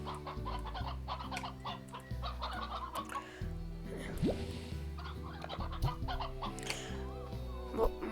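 Chickens cluck and murmur in a farm zone of the Slime Rancher game, soft repeated calls layered over a steady synthesized music backdrop, with no talking.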